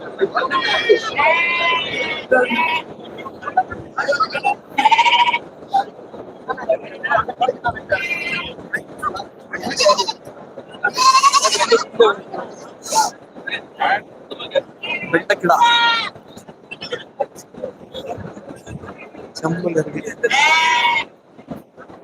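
Sheep rams bleating repeatedly at Melapalayam goat market, several loud nearby calls rising over a steady murmur of market voices and crowd babble.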